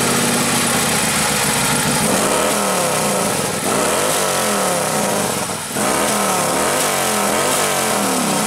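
A loud Harley-Davidson motorcycle engine rumbles steadily at idle close by, with slight shifts in pitch but no pause, at a city day motorcycle club gathering in Novopolotsk.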